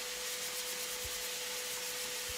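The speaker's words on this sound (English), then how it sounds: "I used a sanding pad, a 220 grit sanding pad" Quiet, steady rubbing rasp of a 220 grit sanding pad on a wooden secretary desk, a continuous faint scratchy hiss with an even hum underneath and a couple of low thumps.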